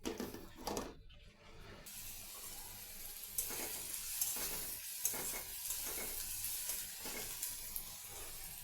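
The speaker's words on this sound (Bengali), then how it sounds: "এখানে আমি একটু শুকনো মরিচ ভাজতেছি।" Dried red chilies frying in a pan, a steady close sizzle that crackles and swells in bursts with stirring, continuing alone without talk.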